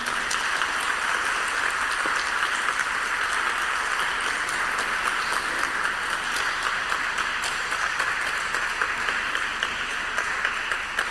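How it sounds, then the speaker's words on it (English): An online audience's applause for a speaker continues in a long, even wash of clapping at steady volume, with no voices over it. "I have just let the applause to go on so that you know that you did a great job."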